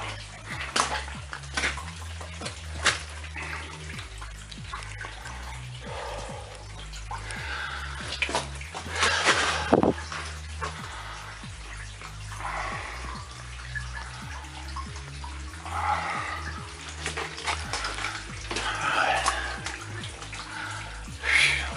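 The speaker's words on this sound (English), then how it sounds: "water's channeling right down over these minecart rails" Water channeling over minecart rails inside an abandoned coal mine, a steady trickling flow with louder splashing surges that echo in the tunnel, with faint voices in the background.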